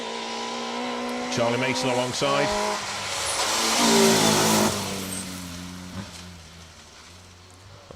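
Rally kit car passing on a stage of the Cambrian Rally, its engine revving hard as it approaches, a loud rush as it goes by, then a fading growl while a commentator talks over it.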